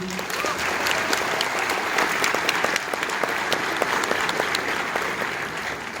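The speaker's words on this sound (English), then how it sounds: "Can we give her a round of applause, please?" Applause from a large convention hall audience at a comic convention panel, steady dense clapping with scattered sharp claps that holds for the whole stretch.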